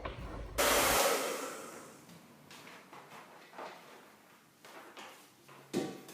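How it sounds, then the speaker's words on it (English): A hair dryer starts abruptly with a loud burst of blowing air, then a steadier, quieter whir runs on over a beach painting to dry the paint, with faint knocks and handling noises, ending in a short louder blast. "I'm going to put the hairdryer over it."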